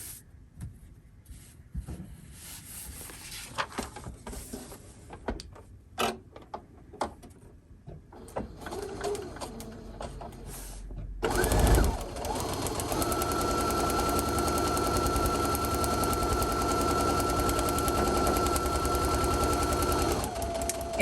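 A sewing machine stitches a paper-pieced quilt block, starting after scattered handling clicks and rustles, then running as a steady loud mechanical whir, close up, for the remaining several seconds.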